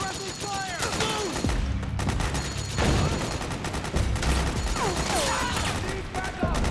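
Dense gunfire from Metal Gear Solid 4: Guns of the Patriots, with rapid bursts and booms under shouted soldier voices, loud and near in a continuous battle mix.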